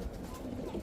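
Khaki Giribaz high-flyer pigeons, including a female, coo in a steady low murmur that fills the whole brief moment, close and moderately loud with no voices over it.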